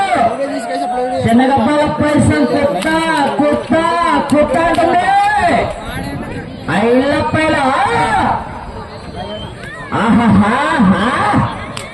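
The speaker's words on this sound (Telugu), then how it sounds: "కేకలు కేరింతలు" At a village bullock cart race, a crowd shouts and cheers in loud surging bursts with brief lulls between, a mass of excited voices close by.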